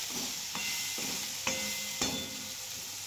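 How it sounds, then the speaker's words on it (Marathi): Salted potato pieces are stir-fried in a pan for a quick capsicum and potato dish: a soft steady sizzle broken by four sharp scraping strokes of the spoon, close up, with no talking. "बटाटा लवकर शिजावं त्यासाठी ना थोडंसं मीठ घालून घेते। आता चांगलं परतवायचं।"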